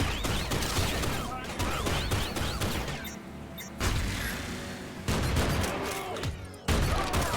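Enemy gunfire in the shooter Project: Snowblind comes in dense, continuous bursts of rattling shots and mechanical clatter. Several brief gaps break the barrage, and a voice talks over part of it.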